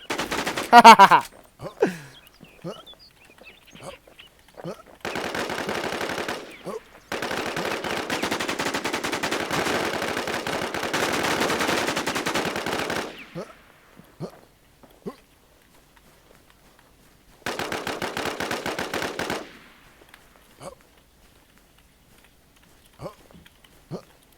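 Bursts of automatic gunfire in the video game The Infestz, a few long sustained volleys and short rattles separated by quiet gaps, with scattered sharp clicks between.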